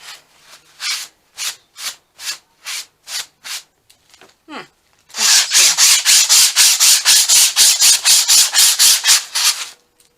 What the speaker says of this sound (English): Gonna keep sanding this.